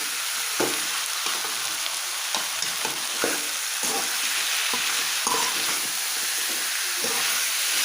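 Duck curry meat and garlic sautéing in hot oil, a steady close sizzle with frequent stirring scrapes and clatters breaking through at irregular intervals, no talking.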